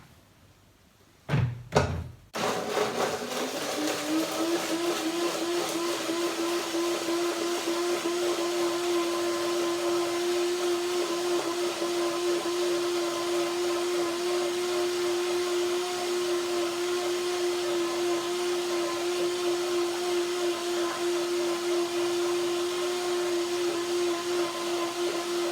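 A couple of clunks, then a blender motor starts and whirs steadily and loudly for over twenty seconds without stopping, blending unsoaked cashews into cashew cream.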